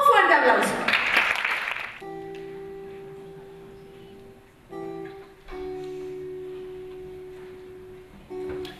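Roughly two seconds of loud applause open the clip at a poetry and arts festival held for a lupus association, quickly dying away as soft, sustained instrumental music takes over.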